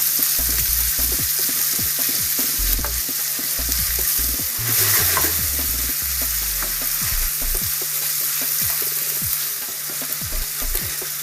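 Meat browning in a pan gives a steady, loud sizzle that runs throughout, with scattered spits and pops and occasional stirring scrapes, and no talking.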